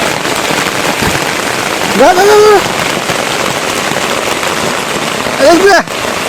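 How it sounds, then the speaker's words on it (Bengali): Steady rain falls on a home's surfaces as a constant loud hiss throughout, with two brief rising whistle-like tones over it. "বৃষ্টি আসছে"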